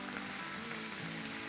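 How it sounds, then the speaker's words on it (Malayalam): Snakehead fish shallow-frying in hot oil, a steady close crackling sizzle with fine popping spatter running continuously and alone throughout. "അപ്പം നമ്മുടെ മീൻ നമ്മൾ ഇപ്പോൾ വറുത്ത് കോരുവാണേ."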